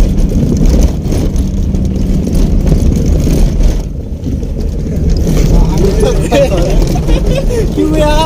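A car engine rumbles low and steady from inside the moving vehicle, heard beneath people talking throughout.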